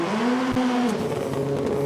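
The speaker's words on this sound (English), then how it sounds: "That is one of the loudest cars on launch." A loud rallycross car engine revs hard launching off the line at the 2018 World Rallycross of Canada qualifying, a steady high drone with a rising pitch that holds for two seconds, close and continuous.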